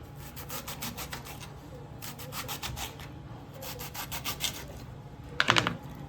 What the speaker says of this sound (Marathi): बारीक बारीक जेवढे जमतील तेवढे बारीक स्लायसेस कापून घ्यायचे